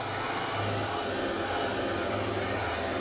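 A remote-controlled excavator engine revs up at higher throttle, giving a loud, steady, broadband roar that holds constant throughout with no talking.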